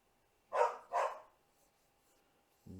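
Two quick, close dog barks about half a second apart, then quiet, with a brief low sound at the very end.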